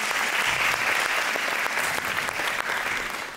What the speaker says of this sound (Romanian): aplauze pentru acești voluntari foarte curajoși